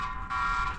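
A security alarm set off by a camera outdoors sounds as a steady, loud electronic tone that continues without a break, with no talk over it.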